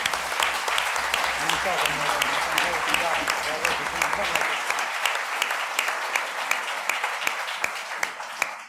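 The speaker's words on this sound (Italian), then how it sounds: "Ha fatto fare un applauso agli altri, fatelo anche a lui." Lecture-hall audience clapping at a theology faculty talk in Cagliari, a dense, sustained round of many hands that begins under a low hum and continues steadily to the end.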